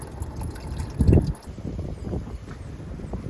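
Coolant or oil drains in a steady trickling stream from an opened petcock on a 1959 Corvette, with a louder splashing gush midway before it settles back to a low, continuous flow.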